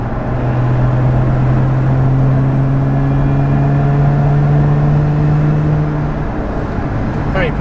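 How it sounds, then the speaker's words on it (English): Lotus Emira at full throttle in sixth gear from just over 2000 rpm, a steady rising supercharger whine over continuous engine and road drone from inside the cabin, loud and sustained with no talk. "you can hear the supercharger whine."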